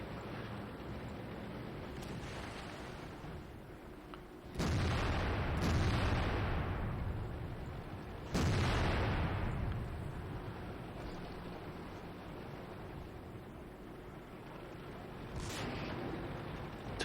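Tank cannons boom in a World of Tanks battle with a KV-4 in the fight, three sharp heavy blasts spaced several seconds apart, each trailing off into a rumbling decay over a low background hum.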